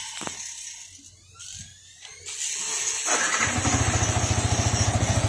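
A Yamaha R15 motorcycle with a fan relay issue cranks and fires up, a few seconds of quiet mechanical clicks and starter whir giving way to a close, steady, rhythmic idle as it begins warming up.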